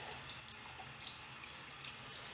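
Water runs steadily from a bathroom tap during a wet shave with a Gillette Old Type safety razor, a close, even hiss with small splashes and drips and no talking.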